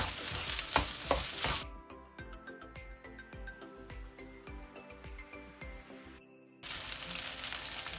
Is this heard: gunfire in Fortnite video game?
no